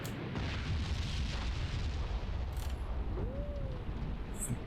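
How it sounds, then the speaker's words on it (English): Artillery fire in the Graviteam Tactics war game: a heavy, continuous low rumble of booms and blasts fills the whole stretch, with a brief whistling tone partway through and no talking. "Was that artillery?"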